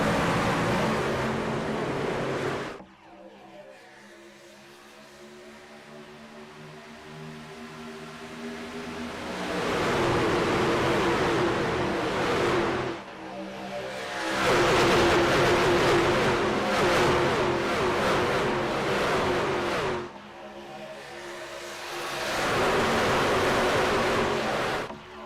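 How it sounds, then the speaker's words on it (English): Race truck engines rev up together at the green flag in a Daytona truck-series racing video game, a loud rushing roar that drops away briefly and surges back in long waves. "Gonna take the green flag and Mark Math on the loud pedal"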